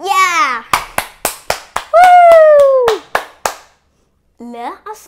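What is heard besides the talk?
hands clapping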